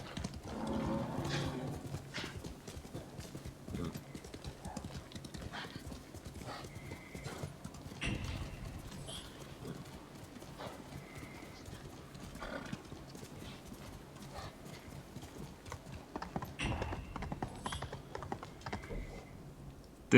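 Horse hooves clip-clop steadily as the rider travels in the Ghost of Tsushima video game, a continuous moderate-level rhythmic trot with faint game ambience.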